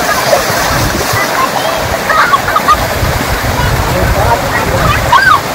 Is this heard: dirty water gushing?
yes